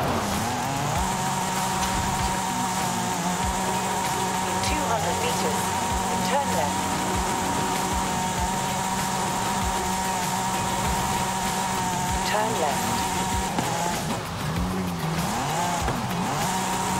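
Race car engine drones steadily in Forza Horizon 5, with tire squeal and skidding sweeping up and down over a continuous loud roar for the whole stretch, plus a voice talking over it.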